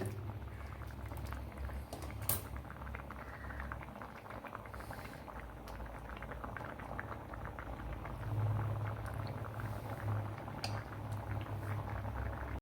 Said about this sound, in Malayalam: ഇനി ഇതൊന്ന് നല്ലപോലെ ഒന്ന് തിളയ്ക്കണം.